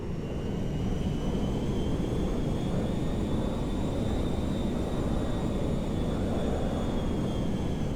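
Merryweather jet in Grand Theft Auto V, a steady loud roar of engine and rushing air holding level for the whole stretch, with a faint high whine gliding slowly above it.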